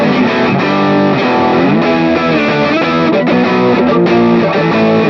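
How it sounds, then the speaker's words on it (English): Electric guitar plays a riff through a JHS distortion pedal into an Amplitube 5 amp model, thick and saturated, loud and continuous with sustained chords and no talking. "all the distortion we're hearing is coming from the pedal"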